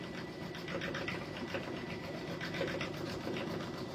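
A Brother embroidery machine stitching down an applique back piece on a Christmas hanging sign, a faint, steady rapid mechanical chatter running throughout without pause.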